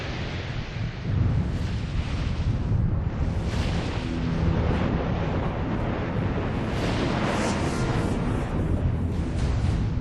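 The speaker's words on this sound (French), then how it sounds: "l'Eyjafjallajökull entre en éruption" The 2010 Eyjafjallajökull volcanic eruption in Iceland: a deep, continuous roar rumbles with gusty, wind-like surges, a massive sustained outdoor rush with no voices.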